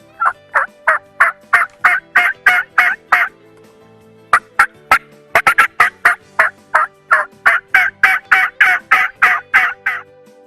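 A Quaker Boy Thunderbird gobble call imitates a turkey, producing loud rapid bursts of gobbling in repeated rattling runs, broken by brief pauses.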